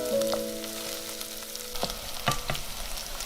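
Pork belly stir-frying in a wok with shiitake mushroom pieces and dried shrimp, a steady close sizzle of hot oil broken by a few sharp scrapes and clatters of the spatula.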